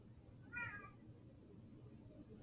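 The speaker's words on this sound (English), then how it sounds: "I got to deal with a cat." A single cat's meow, fairly close and short, rises briefly above a quiet indoor room hum.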